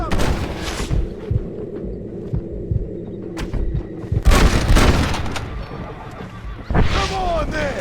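Gunfire in the Western video game Red Dead Redemption, loud booming shots and bursts of firing scattered over several seconds, mixed with shouting voices and music.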